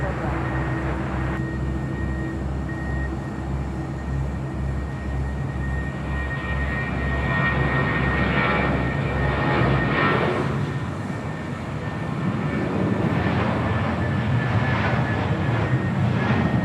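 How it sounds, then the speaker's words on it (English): A four-year-old United Airlines Boeing 787-10 Dreamliner at Los Angeles International Airport turns toward runway 25 right, its engines making a steady, loud jet roar that drones on throughout and deepens briefly partway through. "the United Dreamliner making that U-turn, now heading over to 25 right"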